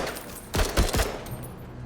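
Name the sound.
gunfire from the video game Menace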